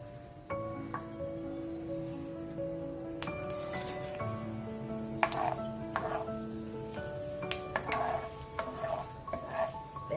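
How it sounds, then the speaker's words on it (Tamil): Fenugreek seeds fry in hot oil in a pan, a soft crackle and sizzle with clinks and scrapes of a utensil, while faint steady musical tones play underneath. "எண்ணெய் காஞ்சோன்ன வெந்தயத்தை போடணும்"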